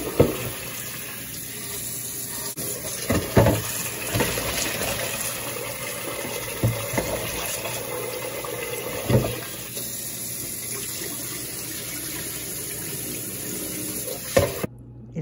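Rice for lugaw being rinsed under a running kitchen tap: a steady close stream of water with occasional splashes and light clatters from the pot.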